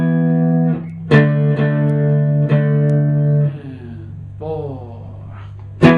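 Distorted electric guitar power chords struck in a short rhythmic riff, chords ringing between hits, then a quieter sliding phrase and a final stab.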